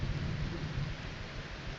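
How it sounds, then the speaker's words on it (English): In a video game, thunder rumbles low and steady through the whole short moment, a distant roll blended with rain-like hiss. "I think that's just thunder."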